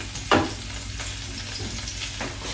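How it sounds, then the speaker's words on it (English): Shallots sweating in about a tablespoon of plant-based oil give a soft, continuous sizzle, broken by a few sharp clinks and scrapes of a spoon stirring the pan. "Sweat our shallots here."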